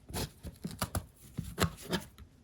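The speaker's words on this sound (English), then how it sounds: "the Miracle Wipe container, I'm going to open up the lid and remove 1 wipe" A plastic Miracle Wipe container lid is opened and a single wipe pulled out, giving a run of close, short clicks, rustles and tugging scrapes in an irregular rhythm.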